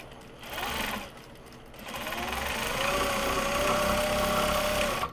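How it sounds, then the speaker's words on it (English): Sewing machine chain-piecing fabric edges for small box bags, running steadily and close with a continuous whirring drone that briefly eases and then builds over the whole stretch, no voices. "Actually, I will just sew it"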